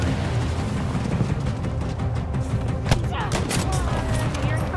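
Gunfire in the World War II shooter Battlefield 5 during a multiplayer match, a dense fusillade of shots and distant booms running continuously, with one sharper crack standing out midway and a few more shots following.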